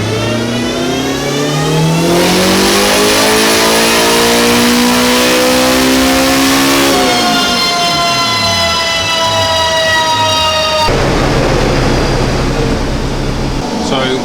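A Toyota MR2 with a turbocharged K20 engine revs hard on a dyno, rising through the gears in long loud sweeps with a sharp drop and a new climb, while voices talk over it.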